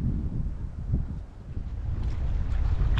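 Gusty wind buffeting the microphone on a cold hiking trail near beaver ponds in Canoe Creek State Park, a low rumbling roar that swells and dips without any talking.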